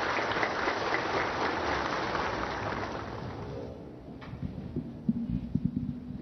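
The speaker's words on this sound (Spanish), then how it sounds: "Los recibimos a todos ellos con un caluroso aplauso." Warm crowd applause greeting a bishop at a public welcome, dense at first and then thinning into scattered claps and low murmuring with a few louder knocks near the end.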